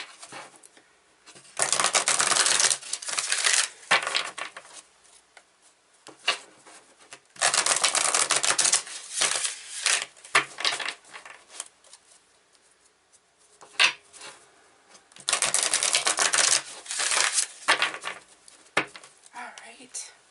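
A deck of tarot cards is shuffled in several bursts of crisp riffling and flapping, each lasting a couple of seconds with quieter pauses between, close to the microphone.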